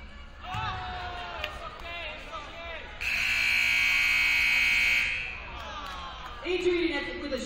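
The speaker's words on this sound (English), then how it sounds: "Adrian with a shot at the buzzer, but it's a no-go." Halftime buzzer at a Special Olympics basketball game in a gym, a loud, steady electronic tone lasting about two seconds over crowd noise and squeaking shoes, with a commentator talking before and after.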